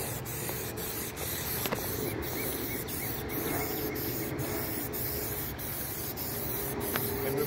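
Plasti Dip coating hisses from an aerosol can onto the wheels of a 2018 Ford Explorer, a steady close spray with faint short pauses and small rattles, no talking.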